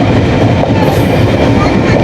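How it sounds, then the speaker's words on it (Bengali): The Kapotaksha Express leaves Ishwardi Junction bound for Rajshahi, heard from on board as a loud, steady rumble of wheels on rails with a faint rhythmic clatter. No voices. "কপোতাক্ষ এক্সপ্রেস ট্রেনটি আবার চলতে শুরু করলো তার গন্তব্য রাজশাহীর উদ্দেশ্যে"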